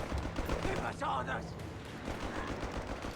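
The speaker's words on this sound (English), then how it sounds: "G43 versus the grease guns and the flamethrower here" Rifle and submachine gun fire crackle in a Company of Heroes 3 battle, with G43 rifles trading shots against grease guns near a flamethrower. Low, dense bursts of gunfire rattle under steady commentary.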